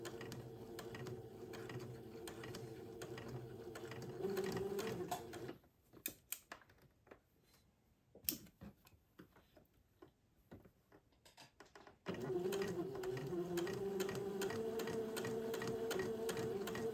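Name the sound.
sewing machine stitching the front seam of a sleeve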